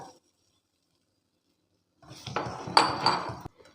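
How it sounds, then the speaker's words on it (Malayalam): Egg mixture being stirred into lamb brain fry in a pan: after near silence, a spoon scrapes and clinks against the metal pan in a short, close burst of rattling strokes. "മുട്ടയുടെ കൂട്ട് ഇതിലേക്ക് ചേർത്ത് കൊടുത്തേക്കാം നന്നായി ഇളക്കി കൊടുക്കും ചെയ്യാം"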